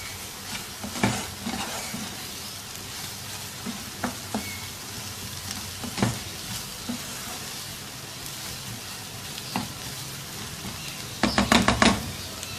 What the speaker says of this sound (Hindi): अब ऐसे ही हिलाते हुए इसको इतनी देर तक पकाएंगे कि अंडे का कच्चापन ख़त्म हो जाए।